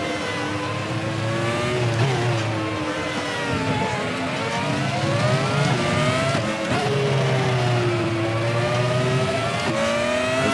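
A race car engine in the RaceRoom sim racing game at Circuit Paul Ricard drones loudly and continuously, its pitch sweeping up and dropping with gear changes, including a late downshift to second, with faint tyre squeal.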